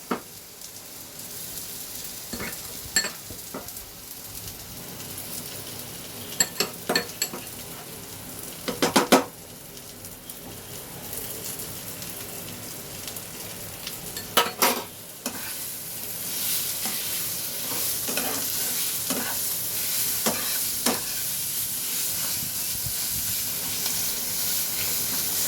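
Chicken bhorta mixture sizzles and fries in a pan while a utensil stirs and scrapes in irregular bursts, the frying hiss growing steadier and louder in the second half.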